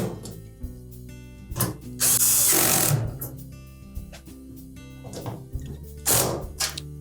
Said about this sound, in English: Now we'll put the remainder of those screws in place.